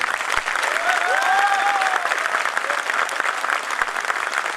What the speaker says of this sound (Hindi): भगत सिंह के नाम पे तालियां बहुत कमजोर